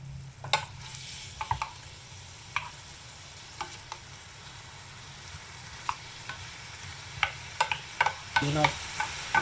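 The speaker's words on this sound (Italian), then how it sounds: "E adesso finiamo di rosolare." Braciole meat rolls and tendons brown in a pan with carrot, celery and onion. A steady sizzle runs throughout, with scattered scrapes and taps of stirring that grow busier toward the end, all close up with no talking.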